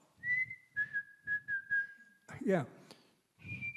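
A man imitates a chickadee's spring song by whistling a long, clear, slightly falling tone, then a brief higher whistled note. His voice is also heard briefly.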